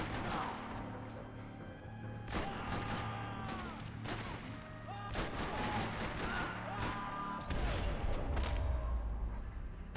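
Gunfire in the video game Max Payne 3, rapid bursts of shots and cracks over an ongoing action soundscape, ending in a low rumbling boom.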